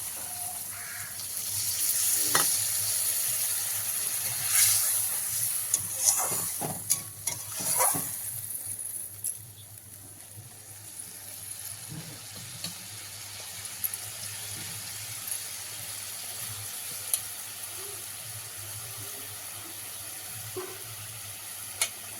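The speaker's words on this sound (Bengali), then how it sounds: "মশলা থেকে তেল ছেড়েছে এবার আমি দিয়ে দেবো জল" Water poured into hot spiced oil for a fish curry hisses into a fierce sizzle, then settles into quieter bubbling and simmering, with occasional spoon clinks and stirring, no voices.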